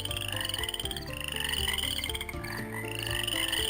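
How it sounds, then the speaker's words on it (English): Frog croaking ambience in a Duke Nukem 3D total-conversion mod game, rhythmic repeated croaks layered over a steady background of game sound, loud and continuous with no speech. "And have little frog sounds play there."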